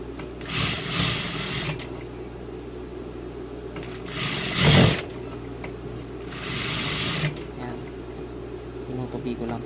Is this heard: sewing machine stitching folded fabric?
yes